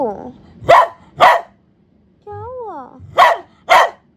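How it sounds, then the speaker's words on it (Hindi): A pet dog at home at midnight gives four sharp, loud barks in two pairs, with someone speaking briefly between them and a high, wavering whine in the middle. "क्यों भौंक रहा है तू आधी रात को?"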